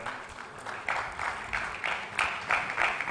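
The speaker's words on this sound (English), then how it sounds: "Keep that applause coming for founder and CEO of Zapfresh" Applause rising in waves as a founder and CEO walks on stage at a tech awards event, steady broadband clapping from an audience with several louder surges, no voices over it.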